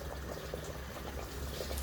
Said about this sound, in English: let's add a little water and adjust the salt